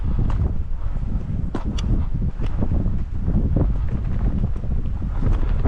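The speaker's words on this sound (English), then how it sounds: "It's just a nice breeze blowing us along here." A steady breeze blows over a boat under way, giving continuous rumbling wind buffeting on the microphone with faint rustles and water movement and no talking.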